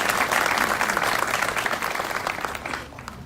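Crowd applause at a grand opening and ribbon-cutting celebration for a Stater Bros. Markets store in Pasadena, greeting a state senator; dense, steady clapping that slowly thins toward the end.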